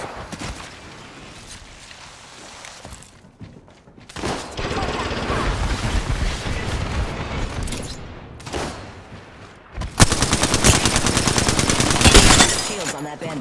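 Gunfire in the Apex Legends video game, rapid automatic bursts in several loud stretches with short gaps between them, ending in a dense, sustained volley.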